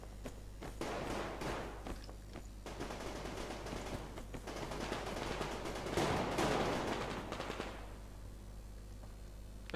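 Gunfire in the game Survarium crackles in repeated bursts of shots over a steady low hum, building to a denser volley before tapering off near the end.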